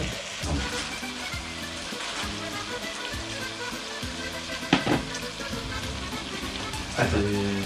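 Meat sizzles and fries in a pan as it caramelizes, a continuous crackling hiss with occasional louder pops and stirring, heard up close under background activity.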